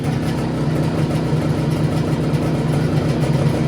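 An Izh Jupiter two-cylinder motorcycle engine with CDI ignition idles with its lights off, a steady, close, fairly loud low rumble that holds an even pulse throughout.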